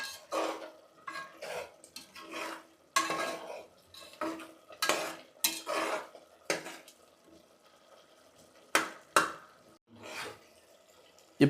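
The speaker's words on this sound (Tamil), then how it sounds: "இப்போது நம்ம வெங்காயம் இதெல்லாம் ஓரளவுக்கு நல்லா இஞ்சி பூண்டு பேஸ்ட்டோடு சேர்ந்து கொஞ்சம் வதங்கி வருது." Crushed shallots and ginger garlic paste for a village-style mutton kuzhambu being stirred in a pan, with intermittent scraping and clinking of a metal spoon against the vessel and only a faint sizzle between strokes.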